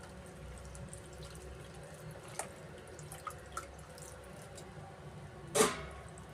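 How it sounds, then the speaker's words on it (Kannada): Cold water goes into a pot of freshly cooked hot soya chunks, making a soft continuous running-water wash with a few faint drips and a louder splash near the end, quiet and close. "ಇವಾಗ ಇದು ನಾನು ಸ್ವಲ್ಪ ತಣ್ಣೀರು ಸೇರಿಸ್ತಾ ಇದ್ದೀನಿ"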